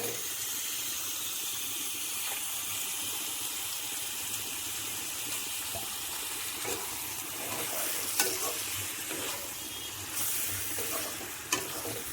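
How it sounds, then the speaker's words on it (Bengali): Chicken pieces sizzle steadily as they are stirred into fried spices in a pan for a Bengali chicken kosha curry, a continuous hiss of frying with occasional scraping knocks, no talking. "এখন ভাজা মশলাগুলোর মধ্যে আগে থেকে ধুয়ে রাখা চিকেনগুলো দিয়ে দিচ্ছি।"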